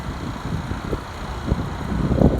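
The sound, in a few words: gusty wind blowing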